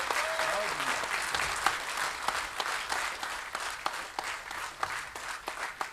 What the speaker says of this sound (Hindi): पुरजोर तालियों के बीच आप उन्हें बुलाएं